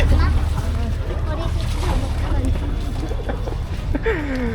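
A water taxi's engine rumbles steadily up close with wind and water noise, while people talk over it, on a trip around Yas Island, Abu Dhabi.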